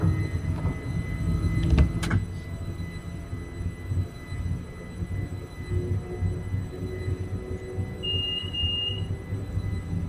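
A West London Line train rumbles and rattles throughout, with a sharp door clunk early on and a brief high electronic door-closed warning tone sounding near the end.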